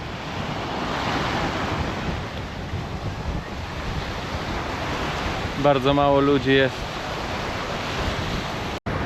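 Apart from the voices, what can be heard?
strong wind at the beach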